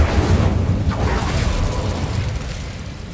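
A fiery Incendio spell goes off in Hogwarts Legacy, a loud, sustained roaring burst of flame with rumbling low end that lingers for a few seconds and then slowly tapers.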